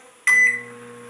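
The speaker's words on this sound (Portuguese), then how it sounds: "Olha o teu micro-ondas funcionando." An Electrolux microwave oven, just repaired, switches on with a sudden steady electrical hum and a brief tone at the start, then settles into a constant close drone.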